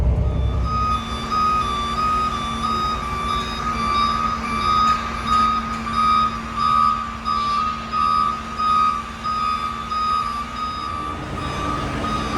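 A truck backs up with a steady run of evenly spaced reversing beeps sounding clearly over a constant low engine rumble and outdoor background noise.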